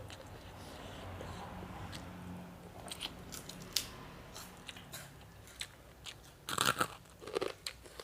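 A crunchy home-fried snack is bitten and chewed close up, giving faint crisp crackles that grow into louder clustered crunches toward the end.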